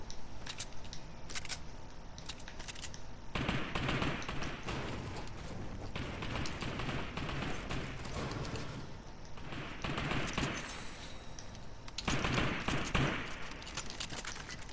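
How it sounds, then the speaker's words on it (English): Fortnite gunfire comes as a dense run of sharp, rapid shots and crackling impacts over a busy game soundscape. Several louder flurries stand out against a continuous background. "Yeah, I'm shooting at that guy up there. Because he was shooting at me."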